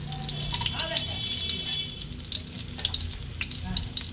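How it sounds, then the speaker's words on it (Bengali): Onions deep-frying in plenty of oil for jackfruit biryani, a busy crackling sizzle with small pops throughout and a voice talking over it. "তো ডুবো তেলেই পেঁয়াজটাকে কিন্তু ভাজার চেষ্টা করবেন"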